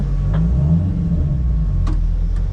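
A drift car's engine idles low and heavy before rolling out for a warm-up at a street drift event, a steady close rumble with a couple of faint clicks on top.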